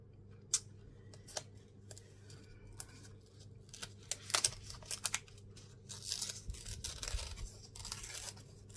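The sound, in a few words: tearing paper apart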